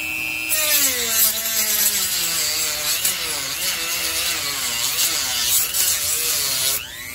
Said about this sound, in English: The fiberglass cutting wheel